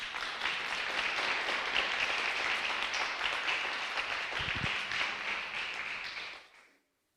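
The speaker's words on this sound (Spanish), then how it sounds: "Dale un fuerte aplauso al Señor, por favor." An evangelical church congregation applauds loudly and steadily, with dense, crowd-wide clapping that runs for about six seconds, then fades out quickly into silence.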